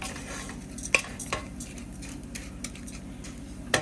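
Rice kernels toasting in a hot pan, stirred with a utensil: a soft steady sizzle under a few sharp scrapes and clinks against the pan.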